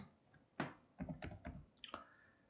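Typing a short command on a computer keyboard while using AutoCAD, a handful of quiet separate key clicks, the last one firmer like an Enter press, close to the microphone with no talk.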